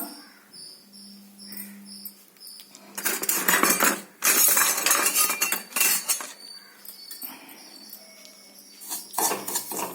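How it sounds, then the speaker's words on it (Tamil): Poppy seeds dry-roasting in a pan while being stirred, with loud scraping and clinking of a metal spoon against the pan in bursts, closely miked, over a faint background hiss and no talk. "முதல்ல கசகசை வறுத்து எடுத்துக்கலாம்"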